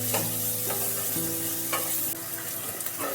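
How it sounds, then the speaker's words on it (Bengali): Sliced onions fry in oil for a prawn, ridge gourd and potato poppy-seed dish, a close, continuous sizzle punctuated by scraping stirs of a spatula against the pan. "কেটে রাখা পেঁয়াজ কিছু এবার এই তেলের মধ্যেই ভেজে নিতে হবে।"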